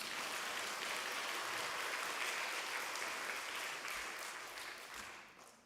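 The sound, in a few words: church congregation applause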